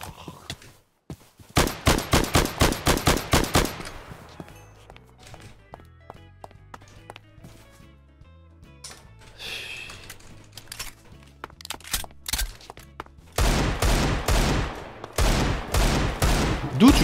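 Video game gunfire comes in rapid automatic bursts: a loud rattling volley near the start, scattered single shots and clicks through a quieter stretch, then more fast bursts toward the end.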